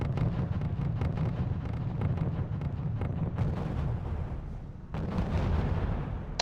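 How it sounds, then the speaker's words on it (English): Artillery gun fire in the real-time strategy game R.U.S.E., heard as a dense run of heavy, booming blasts with a rumbling low end, loud and continuous throughout with no talk. "the sneaky artillery gun is shooting again"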